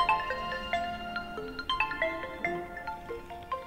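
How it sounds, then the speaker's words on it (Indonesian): A phone ringtone for an incoming call during a lecture, a melodic sequence of bright electronic tones in a repeating pattern, moderately quiet and heard alone. "Tunggu sebentar ya, saya angkat dulu telepon ya."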